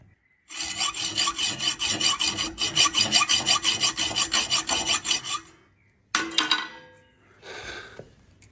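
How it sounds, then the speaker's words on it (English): A saw cuts a slot across the top of a threaded part, with rapid, even rasping strokes for about five seconds, a brief pause, then a few shorter bursts of sawing close by. "Put a cut across the top like this"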